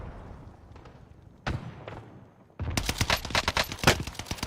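Gunfire in the Warzone video game: a couple of isolated single shots, then a loud, sustained rapid burst of automatic fire from a nearby weapon.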